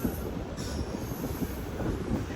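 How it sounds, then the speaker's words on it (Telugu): A diesel locomotive hauling a goods train on a parallel track in Gujarat makes a steady moderate rumble with a sustained high wheel squeal and light clatter, heard alone without talk. "అటు సైడ్ నుంచి ఒక బ్యూటిఫుల్ డీజిల్ లోకోమోటివ్ అయితే గూడ్స్ ట్రైన్ని పుల్ చేసుకుంటూ వస్తుంది"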